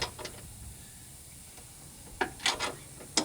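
A ratchet tightening a grade 8 bolt on a splicing trailer, a few short clicking bursts near the end after a quiet stretch, close but faint.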